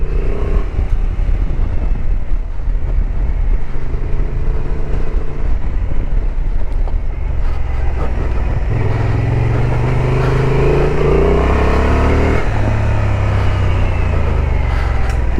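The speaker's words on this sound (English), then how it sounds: "Actually, it's the first time riding this bike off-road" Honda XL750 Transalp motorcycle riding off-road on gravel, a loud close engine drone with rising and falling revs and wind rush, the pitch climbing as it accelerates in the second half.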